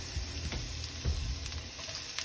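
Garlic sizzles in hot oil in a pan for sardines with misua, a steady close frying hiss with faint crackles and light stirring, no voices.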